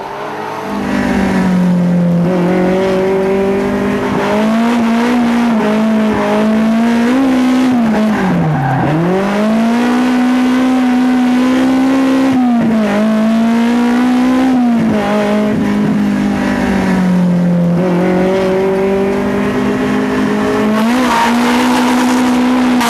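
A car at full speed around Ebisu Circuit in Japan, its engine howling loudly as it rises and falls through gears and corners, with tires squealing under hard cornering, close and continuous.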